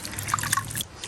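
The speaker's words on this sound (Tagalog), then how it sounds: "Huhugasan ko po itong aking mga nakuhang tapa lang." Freshly caught locan clams are washed in river water with light splashing and dripping. Small droplets and trickles sound faintly and close by, with no talk.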